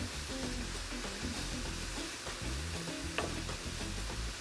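Vegetables sauté in a pan for a vegan lentil loaf, giving a soft continuous sizzle with light stirring and scraping, close by and fairly quiet.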